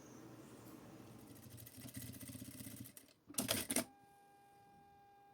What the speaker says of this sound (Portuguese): E fizemos a costura com o pé de máquina.